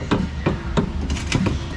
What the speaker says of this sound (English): I'm probably just gonna hammer it on